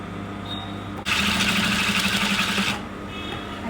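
A sewing machine stitches the side seam of a kurta made from an old saree, running in one steady burst of about two seconds with a rapid, even mechanical chatter, close and loud against a quiet room, with no talk.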